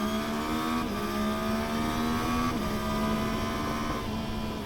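A 2024 Yamaha MT-09 motorcycle engine running at a steady, loud, close drone with a strong tonal whine that dips and recovers slightly a couple of times as the revs shift, with no voices over it.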